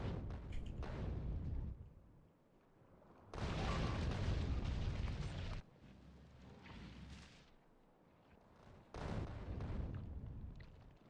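Artillery carpet-bombing in Factorio: repeated heavy bursts of rumbling explosions, several seconds each, separated by quieter gaps, fairly faint overall and with no voices.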